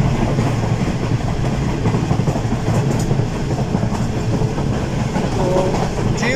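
Karakoram Express passenger train running at high speed between Karachi and Lahore, with a steady, loud rumble and rattle of wheels and carriages throughout, plus a faint squeal near the end.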